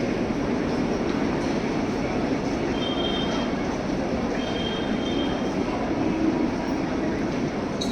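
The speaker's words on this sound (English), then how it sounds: "We might not be the only train that's arrived." Train arriving at Chennai railway station, a steady loud rumble of wheels and carriages with faint metallic squeals rising briefly, continuous throughout with no talking.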